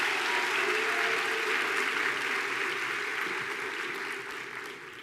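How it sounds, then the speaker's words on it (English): A graduating class of business and economics students at an autumn graduation ceremony on the Gqeberha campus gives a warm round of applause, a steady wash of hall clapping that slowly tapers off. "Please give yourselves a warm round of applause."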